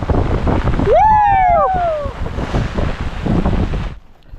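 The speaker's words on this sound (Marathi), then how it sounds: "पाऊस बघा वादळी वारा लाट बघा अक्षरशः समुद्रासारखी लाट यायला लागली बघा तुफान पाऊस वारा" Stormy wind and heavy rain lash the Konkan coast in a loud, continuous rushing roar. A brief rising and falling whistle-like tone sounds early on, and the noise cuts off abruptly at the end.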